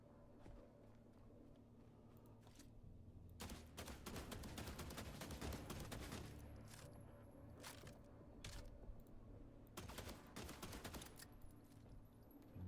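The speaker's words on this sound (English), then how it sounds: "Burned through all my bullets." Rapid bursts of gunfire from a weapon in the video game The Last Caretaker, loud dense volleys clustered in the middle and again toward the end over a steady low background rumble.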